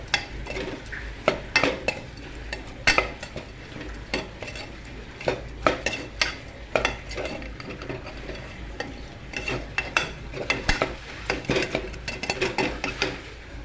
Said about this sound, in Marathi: खडा मसाला, त्याला चांगल्यापैकी हलवून घ्यायचं आहे.